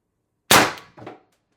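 A single sharp report from a high-pressure-air (HPA) air gun firing a 12.7mm ball bearing, a loud crack that decays quickly, then a fainter second impact-like burst a half-second later.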